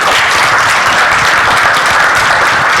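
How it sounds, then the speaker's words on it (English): A dense, loud round of applause from an audience at a business event, steady clapping with no break. "special round of applause to the Revista folks for putting this together"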